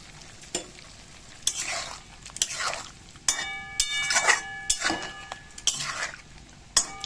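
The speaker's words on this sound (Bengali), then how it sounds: "গ্যাসের স্টিমটা একবারে লো করে আমি আস্তে আস্তে এটাকে ভালো করে কষিয়ে নেব" A spoon scrapes and clinks against a pan as tomato and fish curry masala is sautéed, soft sizzling underneath repeated stirring strokes, close and moderately loud, with no talking.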